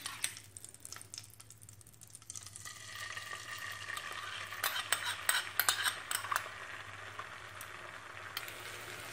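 Beaten egg mixture with a little milk cooking in a pan, quiet at first, then building into a fuller sizzle with clinks and scrapes of a utensil against the pan, near and without talk.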